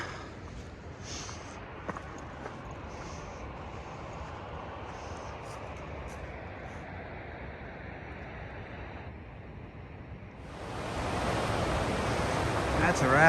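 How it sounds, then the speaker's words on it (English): Rushing whitewater from a rapid on the Colorado River, a continuous broad roar heard from nearby that grows louder and rougher toward the end, with wind noise on the microphone. "That's a rapid."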